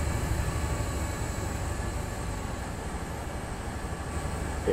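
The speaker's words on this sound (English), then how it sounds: "That's my train." Class 220 Voyager diesel multiple unit on the Riviera Line in Train Simulator 2015, a continuous low engine drone and rumble at steady level, with no talk.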